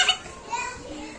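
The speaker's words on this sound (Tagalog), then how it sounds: "Papansin nyo ang ingay ng mga bata dito" Children playing and shouting outdoors, with bright high-pitched calls and chatter from several kids at a moderate distance in short bursts.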